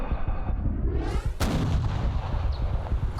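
A single loud, close rifle gunshot cracks sharply, followed by a long rolling echo, over a steady rumble of outdoor background noise.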